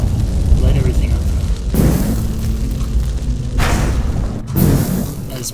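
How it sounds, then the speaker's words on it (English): Bombs detonating in the Neonsea 17 video game, with heavy low booms at the start and again around two and four and a half seconds over a dense rumbling bed, while a voice talks throughout. "Throw in a bomb. Light everything up."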